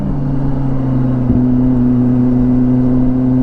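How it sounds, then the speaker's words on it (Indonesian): A Kawasaki Ninja ZX-25R motorcycle with a Japanese WRS racing exhaust idles loudly and steadily nearby, its low exhaust note shifting pitch once as the revs change slightly. "kita dengar suara knalpot ini ya"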